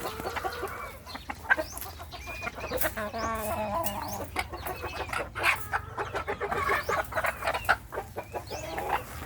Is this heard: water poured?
no